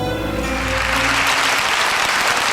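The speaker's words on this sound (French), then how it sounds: "il applaudit tout le temps, Noah Kamel" A large audience applauds at the Fight AIDS Monaco gala, dense sustained clapping rising over a fading musical chord.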